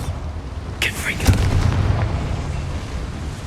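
Confringo fire spell in Hogwarts Legacy going off in a mine, a single booming blast with a quick crackling burst, settling into a low rumbling tail; no talking.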